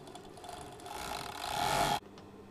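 An overlocker serges the seam allowance of a fly front, a fast mechanical whirr that builds steadily louder for about two seconds and then stops abruptly.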